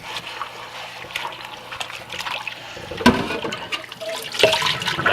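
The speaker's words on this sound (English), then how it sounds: "let's fill her up with some hot water now" Hot water rushes and splashes into a toilet bowl during cleaning, a close, steady watery flow that grows louder and more turbulent toward the end, with no speech.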